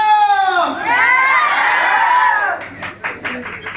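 A seminar audience erupts in loud whoops and cheering voices, then breaks into scattered clapping that fades toward the end.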